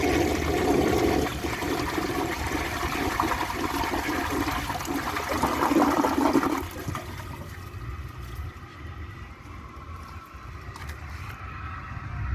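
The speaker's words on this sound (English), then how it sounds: "when the tank is full, I will flush the washcloth" A 1952 Briggs Prince toilet flushes a washcloth, a loud rushing swirl of water that drains away after several seconds into quieter refilling trickle.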